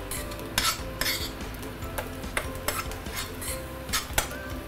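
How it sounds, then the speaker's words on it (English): Fried tofu with dried radish is stirred in a pan: repeated metal scrapes and clanks of a spatula against the cookware in an uneven rhythm, with a faint sizzle underneath and no talking. "Give it a few stir."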